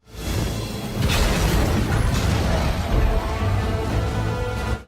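Explosions erupt in a Halo 5 campaign cutscene, loud booming blasts with crashing debris and a shattering burst, one after another over a continuous rumble.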